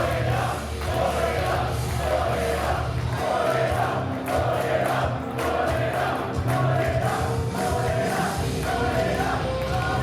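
A large wrestling crowd at a barbed wire event chants and cheers in a steady, loud, rhythmic roar, the repeated rising chant filling the arena for the whole stretch.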